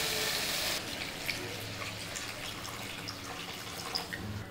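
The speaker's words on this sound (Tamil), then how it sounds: "இது முழுகிற அளவுக்கு நான் தண்ணி ஊற்றிட்டேன்" Water pours into a pan of pepper spleen gravy being cooked in a home kitchen, a dense continuous splashing rush at the start that settles into a softer bubbling trickle.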